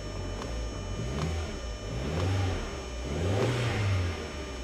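A salvage-auction car at a Copart yard in Indiana runs and revs, its engine rising and falling in several swells over a steady idle, close and alone with no talk.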